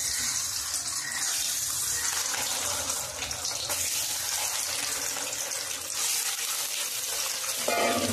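Eggs coated in salt and turmeric fry in hot oil with a dense, steady hiss and crackle. The sizzle carries on close up and fairly loud for several seconds with no voices.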